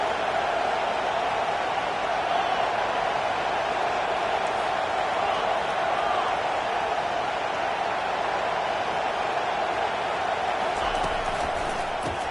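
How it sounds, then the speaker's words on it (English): A stadium crowd at a Notre Dame football game roars in a steady, dense wall of cheering that fills the whole stretch without letup, loud and continuous. "Listen to this crowd just shaking the girders of this place"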